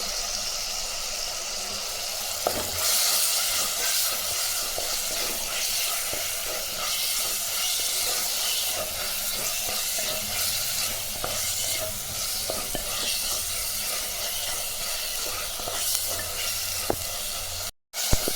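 Onions and tomatoes sauté and sizzle in a pan for a quick kurma, with a steady frying hiss and the occasional scrape of stirring throughout, no voices over it.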